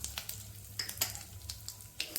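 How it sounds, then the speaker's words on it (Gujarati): Asafoetida and turmeric hit hot oil with spluttering mustard seeds and cumin, making a quiet, crackly sizzle with scattered sharp pops and light stirring, close by, no talk. "આપણે એમાં નાખીશું અડધી ચમચી હિંગ અને 1 ચમચી હળદર નાખીશું"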